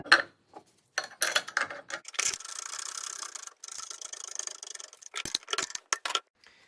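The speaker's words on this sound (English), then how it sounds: "Now I will install the caliper to the mounting bracket." A Brembo brake caliper is fitted onto its mounting bracket on a BMW, giving intermittent close metallic clicks, taps and scraping rubs in short bursts separated by quiet gaps, no talking.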